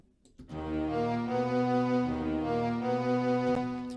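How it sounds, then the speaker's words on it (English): Bright Performance Strings from the Expand plugin hold a simple sustained power chord, a rich string ensemble swelling in after a brief quiet start and ringing steadily at even volume for several seconds, with no talking. "the first one is the Bright Performance Strings, and this is playing a very simple power chord"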